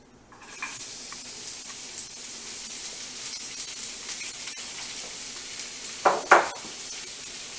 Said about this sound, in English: We have our oil getting warm for our Spanish rice right there. So we're going to throw in some onions.